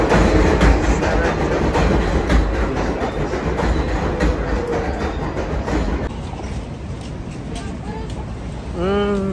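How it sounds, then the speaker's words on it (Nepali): A train passes on railway tracks during a hot outdoor walk, a steady loud rumble with rhythmic clatter that fills the stretch and then eases, while people talk over it. "आयो ट्रेन"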